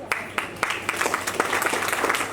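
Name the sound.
audience applause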